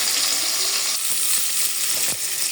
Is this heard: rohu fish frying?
yes